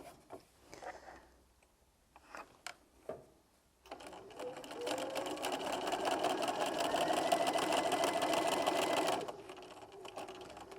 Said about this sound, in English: I'm going to sew each one, and when I get to the end I'm going to stop with my needle in the work